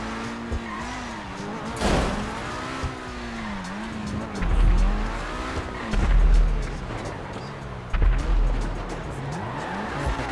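A car in GTA 5 driving with repeated tire squeals, engine revving up and down in sweeping pitch as it accelerates and skids several times, loud and close throughout.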